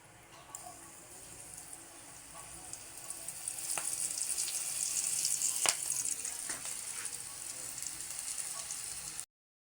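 Banana heart frying in hot oil in a home kitchen, a soft sizzle that builds into steady crackling with a few sharp pops, then stops abruptly.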